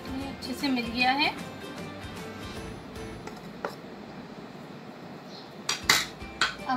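Ghee being mixed into dough in a metal dish, with scraping clinks and knocks of utensil against the dish, quiet and intermittent, while someone talks over it.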